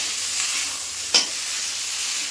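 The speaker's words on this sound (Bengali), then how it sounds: "এবার কেটে ধুয়ে রাখা এই যে কচুলতিগুলো দিয়ে দেবো দিয়ে মশলার সঙ্গে কিন্তু একটু কষিয়ে নেব" Taro stolons stir-fried in a pan of hot oil and spice paste give a steady, bright sizzle, with one brief scrape of stirring midway; no voices.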